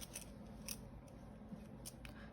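Scissors handled at a knitting table while making a yarn pom-pom hair tie ribbon, giving several quick, faint metallic clicks and snips over a low steady room hum, with no talk.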